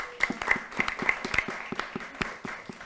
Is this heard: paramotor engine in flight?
no